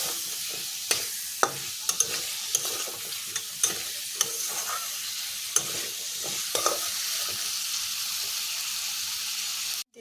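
Cut potatoes fry in hot oil in a pan with a steady close sizzle, while a utensil stirs and scrapes them in scattered sharp clicks throughout.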